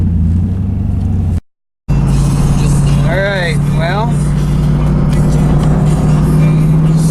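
A 2002 Camaro Z28 35th anniversary edition T-top car runs strong with a steady, loud, close engine drone. Someone talks over it, and the sound cuts out completely for a moment.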